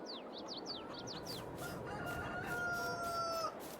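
Chickens in the video game Farming Simulator 22: a quick run of chirpy clucks followed by a drawn-out rooster crow, moderately loud and close over a rough background hiss, with no talk.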